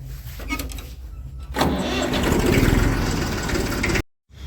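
A tractor engine rumbles steadily, grows louder and rougher midway, then cuts off abruptly into silence.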